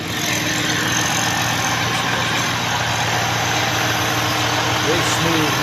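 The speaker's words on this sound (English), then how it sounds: "Very smooth running engine." Steady, smooth idle of a big older car engine, a constant close rumble with no revving, running evenly for several seconds.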